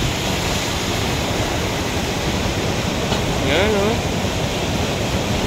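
Rushing typhoon floodwater roars as a steady, loud broadband wash, with a voice briefly heard over it.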